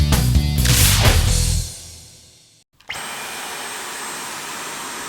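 A Dyson V11 Absolute cordless vacuum cleaner runs close by with a loud, steady roar that fades away, goes briefly silent, then restarts as a steady motor hum with a high whine.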